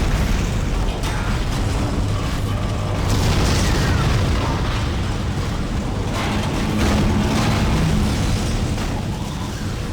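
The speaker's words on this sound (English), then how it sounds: "So our broke-ass ship just exploded" A damaged spaceship explodes in the sci-fi horror game Dead Space, a loud, sustained roaring blast with rumbling swells and crackling debris that carries on for several seconds.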